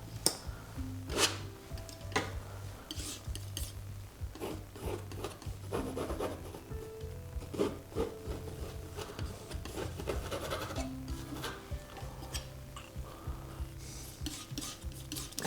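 A palette knife spreads paint across a canvas in a beach scene, making soft close scraping and rubbing strokes in an irregular rhythm, each stroke a brief rasp against quiet room tone.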